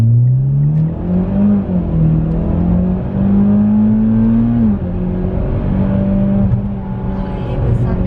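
A Mitsubishi Evo 8 accelerating hard in a street race, its engine note climbing steadily through the gears with a shift partway through, loud and close from inside the car.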